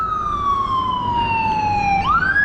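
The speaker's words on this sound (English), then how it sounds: "There's the ambulance." An ambulance siren wails loudly on a city street in Bratislava, a single sustained tone falling slowly as the vehicle passes, then rising sharply again near the end, over steady traffic rumble.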